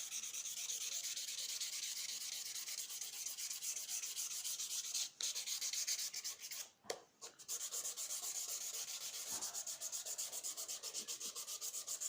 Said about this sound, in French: Alors quand on ponce, bien poncer dans les deux sens